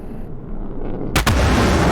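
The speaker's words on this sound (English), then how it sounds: "Watch those friggin' missiles hit something now." Missiles strike targets in a naval combat video game, landing as a sudden loud explosive burst after a quieter rumbling stretch, followed by a sustained roaring blast.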